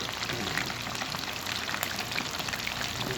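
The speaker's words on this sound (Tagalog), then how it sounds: "tayo ay nagluluto ng fried chicken" Marinated, flour-coated chicken thighs, breasts and wings frying in oil, making a steady, dense crackle and sizzle at a fairly quiet level with no speech.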